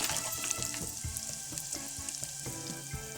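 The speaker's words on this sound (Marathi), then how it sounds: "आता आपण हलवून घ्यायचा चांगला" Village-style Chimbhori crab curry with chilli, salt and masala is stirred in a tavli pot, the spoon scraping in a steady rhythm over constant close sizzling, with no talking.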